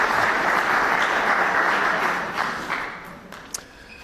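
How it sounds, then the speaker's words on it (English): An indoor lecture audience gives a full round of applause as a speaker is welcomed. The clapping is steady and thick, then fades over the last seconds, leaving a few scattered claps. "Please help me welcome him with a round of applause."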